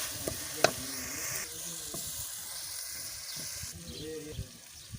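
Hot oil sizzles and crackles steadily as spices are tempered for dal mash, with spices popping and a spoon clinking and stirring in the pan; no one speaks.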